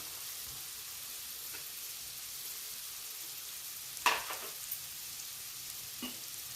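Capsicum, cabbage and carrot sautéing in a pan for a lunch box dish: a low, steady sizzle with a sharper clatter of stirring partway through and a few lighter knocks later, faint overall.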